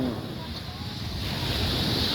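Sea waves wash along a long seaside boulevard at night, a steady broadband surf roar with wind noise on the microphone, continuous and fairly loud with no voices.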